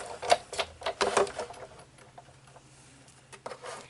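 A die-cutting machine's handle turns to roll craft material through, giving a series of close, irregular clicks and soft mechanical clatters that bunch together early and then thin out into faint ticking.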